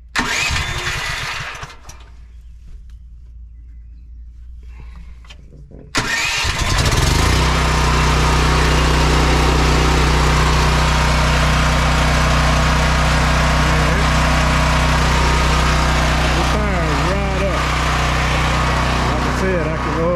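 A portable gas generator cranks and catches after a quiet pause, then runs at a loud, steady drone close by in a workshop, with a person talking over part of it.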